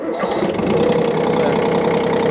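A Yanmar KE-3 tractor's diesel engine cranks and catches, a short starter whir followed by the engine settling into a steady, close, knocking idle.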